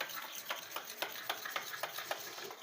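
Dough for homemade khari with cornflour and a half spoon of an added ingredient being mixed by hand, close soft squelching pats repeating in a steady rhythm about twice a second.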